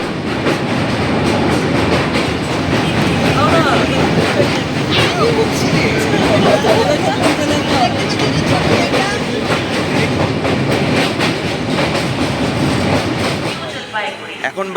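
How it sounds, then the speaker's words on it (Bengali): The Uttarbanga Express passenger train runs on rails just out of Sealdah near Bidhannagar, a loud continuous rumble with rhythmic clickety-clack from the wheels heard from inside, fading out near the end, with some voices underneath. "ট্রেনটা সবে শিয়ালদা ছেড়ে বিধাননগর এসছে"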